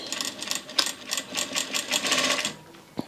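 A Vevor industrial sewing machine stitches a trouser leg hem at about 1,000 stitches per minute, a close, rapid mechanical whirring and clatter lasting about two and a half seconds before stopping with a click.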